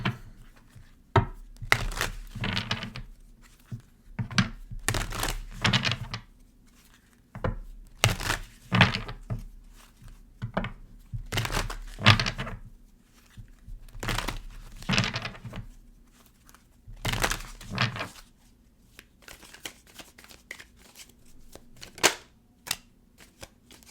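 Tarot cards are shuffled and drawn by hand, giving repeated sharp papery snaps and riffling bursts in irregular clusters, close and crisp, with short quiet gaps between them.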